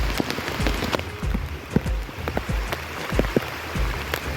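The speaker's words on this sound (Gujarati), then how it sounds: "વરસાદ જોરદારનો ચાલુ થઈ ગયો મિત્રો, ઝરણા ચાલુ થઈ ગયા છે, અને વરસાદ પડી રહ્યો છે જોરદારનો" Steady heavy rain pattering on a hard surface on Girnar mountain, with scattered louder drops and splashes standing out close by, and no voices.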